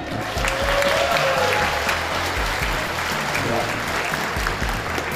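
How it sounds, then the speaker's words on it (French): A studio audience at a French game show breaks into loud, sustained applause that fills the whole stretch as a dense wash of clapping. "on l'applaudit."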